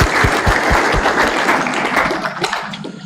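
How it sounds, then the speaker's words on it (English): An audience at a medical school white coat ceremony claps steadily, a dense round of applause that tapers off toward the end. "give him a round of applause again for the good job"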